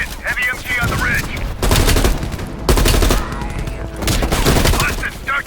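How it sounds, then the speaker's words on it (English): Heavy machine gun fire in Call of Duty: Black Ops Cold War, loud sustained bursts separated by short pauses, with voices talking in between. "Heavy MG on the ridge."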